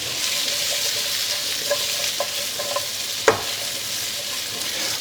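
Pork sautéing in a pan for cheesy caldereta, a steady bright sizzle close by with a few stirring clacks and one sharp utensil knock partway through, no voices.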